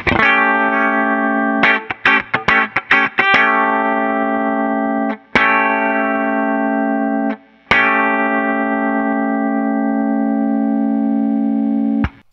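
Electric guitar run through a fast-attack compressor effect on a Line 6 Helix, with a quick burst of picked notes followed by long, evenly squashed sustained chords cut by brief pauses, loud and up close with no talking.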